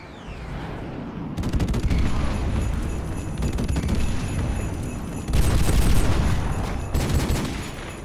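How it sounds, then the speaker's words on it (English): Airstrike explosions in Modern Warfare Remastered multiplayer: heavy booming blasts over ongoing gunfire, with a loud surge of detonations partway through, close and chaotic. "Go, go, airstrike."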